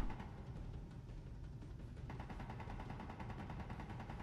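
Steady rapid gunfire rattles in Space Engineers during a scrapyard fight with police ships, a continuous fast stream of shots at moderate distance, quieter and constant throughout.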